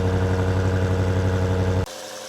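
Stock-exhaust BMW G90 M5 idling quietly, a steady low engine hum with even harmonics that cuts off abruptly near the end, leaving faint background noise.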